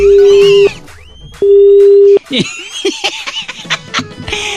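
Two long, loud busy tones on a phone line after a caller hangs up during a radio prank call, separated by a short pause, followed by laughter and chatter.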